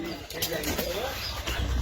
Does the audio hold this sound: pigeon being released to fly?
yes